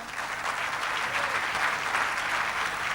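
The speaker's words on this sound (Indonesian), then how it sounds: "Tepuk tangan lagi juga boleh?" Audience applause at an evening concert, a steady even wash of clapping from a crowd, moderately distant and fairly quiet, with no break throughout.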